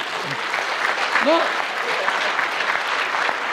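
An audience at a stage anniversary concert evening applauds in continuous, even clapping with faint voices and a brief whoop mixed into the crowd noise.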